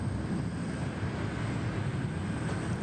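A jet aircraft taxiing onto the freight apron at Sydney Airport, heard as a steady, fairly distant engine rumble and whine held at an even level, with no voices.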